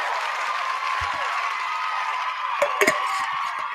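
Brief scattered applause from a small group in a podcast studio, a broad steady wash of clapping with a few sharper claps near the end.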